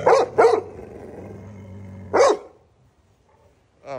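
Dogs bark outdoors at dusk in a few sharp, close bursts: two quick barks, a pause, another bark, then a shorter one after a stretch of near silence.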